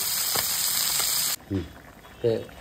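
A whole fish curry cooks in a pan, giving a loud, steady sizzle for over a second that then cuts away to a voice speaking in short bursts over a faint background hiss.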